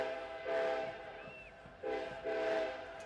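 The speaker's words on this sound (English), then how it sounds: "As the train horn goes off" A train horn sounds two sustained blasts from a distance in Pittsburgh during a USL soccer match, ringing over the open-air hum of the stadium.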